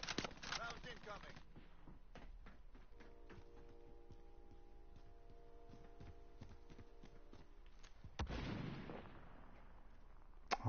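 Incoming gunfire in a video game battle: rapid bursts of sharp shots and impacts, scattered clusters of cracks with a heavier blast near the end, moderately loud against a quiet background.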